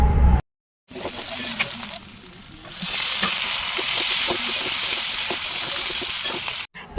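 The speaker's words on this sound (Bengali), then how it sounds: "পেঁয়াজগুলোকে হালকা নরম করে ভেজে নিয়ে ক্যাপসিকাম আর টমেটোগুলো দিয়ে আরও কিছুক্ষণ ভেজে নেব।" Onions, capsicum and tomatoes fry in a pan for chilli chicken, giving a steady, close sizzle that cuts out briefly near the start and then grows into a louder, continuous hiss with light stirring.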